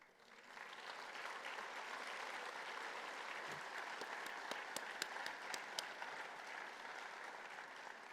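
An audience at a breakfast event gives a sustained round of applause, a fairly soft, even wash of clapping that builds quickly and holds, with a few sharper individual claps standing out.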